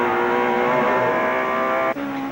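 Touring race cars lapping Lakeside circuit in the 1991 Australian Touring Car Championship, one with its bumper dragging: a loud, steady engine drone near and continuous, briefly dipping near the end.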